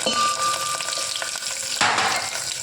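Mustard seeds, cumin, curry leaves and finely chopped onion hit hot oil in a pan, making a loud continuous sizzle and crackle with a fresh burst of frying near the end.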